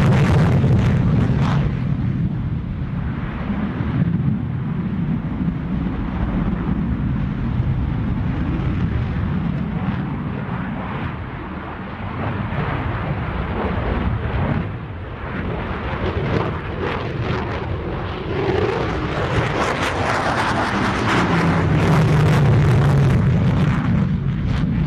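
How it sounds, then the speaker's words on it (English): An F-14B Tomcat jet fighter banks through a tight high-speed turn at an air show, a loud sustained roaring jet thunder that swells, dips briefly, then builds again into a rising rumble near the end. "Left at 350 miles per hour to demonstrate the Tomcat's extremely tight turning capability"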